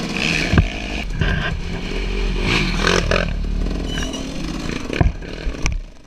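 Quad ATV engines rev and pass along a dirt trail at an off-road race, with clattering revs rising and falling and a few sharp knocks, no talk.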